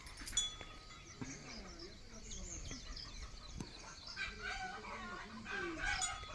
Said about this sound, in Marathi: कोंबड्यांचा आवाज येतो तिकडून